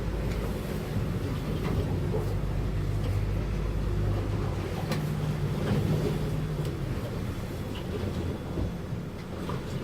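A 28-foot 2019 Duckworth boat cruising on one outboard motor, a steady loud engine drone with water rush and wind noise throughout, no talk.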